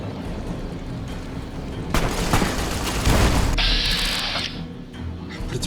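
The Thump Thump grenade launcher in Fallout New Vegas fires with a heavy, broadband blast lasting over a second, followed by a ringing mechanical tail and a brighter whirring tone, all fairly loud and without speech.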